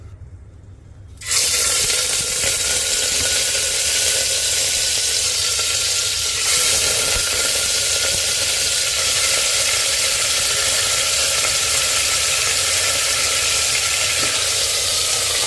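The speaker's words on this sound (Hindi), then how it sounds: "अब इसमें डाल देंगे सीधा ही मटन डालेंगे पहले" Mutton dropped into hot cardamom-flavored oil, bursting into a sudden loud, dense sizzle that stays steady and close after a brief quieter moment.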